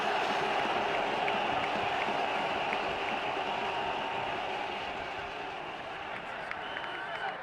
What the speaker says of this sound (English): He's getting a polite round of applause as he makes his way to the pavilion.